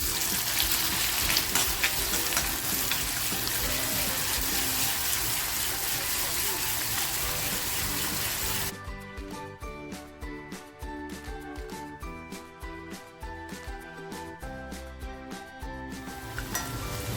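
Chopped onion drops into hot oil in an iron kadhai with a loud, dense hiss that settles into a crackling, popping sizzle broken by stirring clicks, close by, with no talk.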